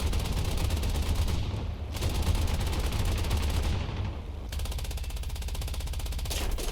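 Rapid, continuous machine gun and cannon fire from an A6M Zero fighter in the War Thunder flight game, a dense, loud chatter of bursts that runs throughout with brief dips and no talk over it.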